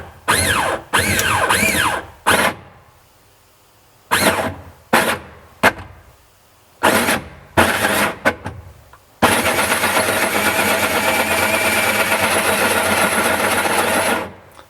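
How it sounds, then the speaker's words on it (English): A power drill bores through the bottom of a taped-down teak china cabinet under restoration, running in loud bursts separated by short pauses before settling into one long continuous whine. "and now I'm going to drill it through."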